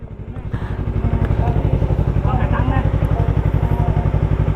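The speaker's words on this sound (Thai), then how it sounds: "รถมอไซค์จอดข้างใน" Motorcycle engine idling with a steady throbbing pulse while the bike is pushed and parked indoors, with clattering and people talking over it.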